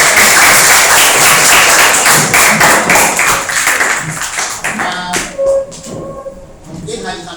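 Students in a classroom clapping loudly together in a dense burst that thins out after about five seconds into scattered claps, taps and classroom noise.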